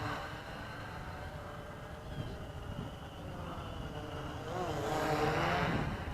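Bayang X16 quadcopter drone in flight, its motors giving a steady whirring buzz that swells louder toward the end as it speeds up, with faint background noise throughout.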